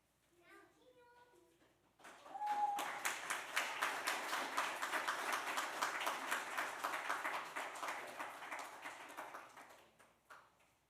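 A crowd at an indoor launch event bursts into sustained applause lasting several seconds before tapering off, preceded by a brief spoken remark and faint voices.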